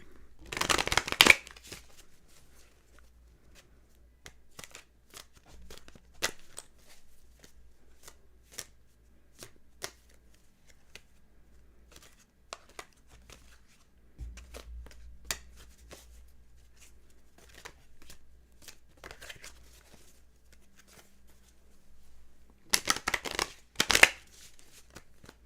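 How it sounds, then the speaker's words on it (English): A Tarot of Dreams deck by Ciro Marchetti is shuffled by hand, with loud riffling bursts at the start and end and scattered soft card taps and slides in between, no talk. "Let me shuffle this guy up."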